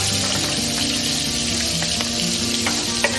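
Garlic fries in melted butter and olive oil, making a loud, continuous close sizzle with a few faint pops and stirring taps.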